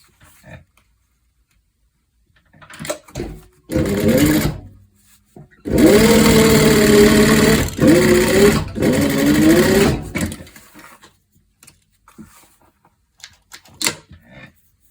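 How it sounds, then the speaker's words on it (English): A sewing machine top-stitches a seam on a leather corset, running in two loud, steady mechanical bursts close up, with fabric handling and quiet clicks before and after. "I'm going to top stitch the seam and make sure I don't catch the line"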